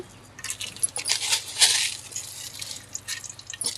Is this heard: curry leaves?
yes